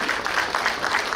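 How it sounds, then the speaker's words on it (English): Brief burst of clapping from a church congregation at a Sunday service, steady and dense, fairly loud throughout with no voices. "can we give him another round of applause?"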